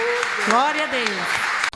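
Church congregation applauding joyfully for a pastor at a Pentecostal service, a steady wash of clapping running under a voice speaking over it.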